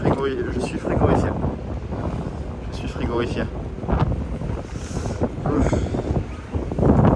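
Strong cold wind buffets the microphone outdoors near a small bench on a hilltop, a steady roaring rumble with gusts swelling and fading throughout, while someone speaks over it.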